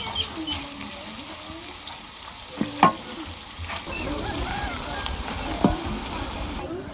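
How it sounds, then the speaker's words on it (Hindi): Onions sautéing in a generous amount of ghee for village-style sarson ka saag give off a continuous low sizzle, broken by a few sharp scrapes and clinks of a spoon stirring against the pan. "तो प्याज़ों को हल्का सा सोटे करेंगे।"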